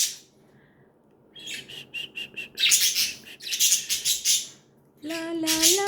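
Budgies, kept as pets, chirp and sing in busy bursts of high warbling and rapid repeated tweets, with squawky calls near the end, close by and without any talking.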